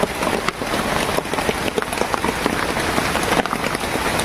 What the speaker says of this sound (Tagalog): Kanina pa umuulan kaya gumawa na lang po kami ng masisilungan dito.